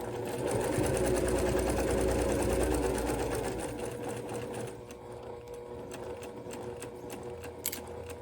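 Sewing machine running steadily as it stitches a Y-seam in fabric, a continuous loud mechanical whir that slows and softens partway through as the stitching eases toward the seam intersection.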